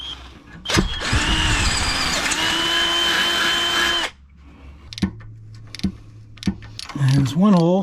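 Power drill boring a hole for an exhaust mount on a 4.0 Jeep CJ, a loud close whirring burst lasting about three seconds, followed by clicks, handling noises and a man's brief speech.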